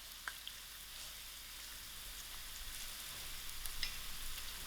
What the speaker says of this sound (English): To my oil, I'm going to add in my onions. I will allow these onions to fry out soft.